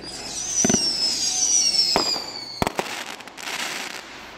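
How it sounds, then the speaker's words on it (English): Fourth of July fireworks go off, with a whistling rocket rising and then several sharp bangs and crackling bursts, some close and some farther off, with no talk. "Shoot off like fireworks, like a shit ton 5 minutes straight."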